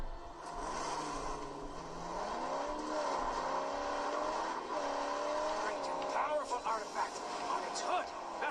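A car driven in a video game played on a Steam Deck, its engine tone rising and falling steadily throughout under continuous talking.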